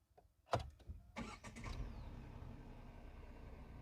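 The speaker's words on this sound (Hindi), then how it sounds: "काफ़ी स्मूथली इंजन स्टार्ट हो रही है।" A Tata Punch BS6 Phase 2 car engine cranks briefly via push-button start with a sharp click, catches, then settles into a steady, smooth idle hum close by.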